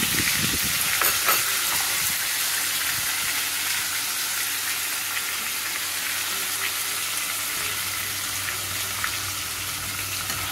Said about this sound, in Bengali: এই দেখুন এখানে আমি আদা পেঁয়াজ রসুন পেস্টটাকে এবারে ভাজছি।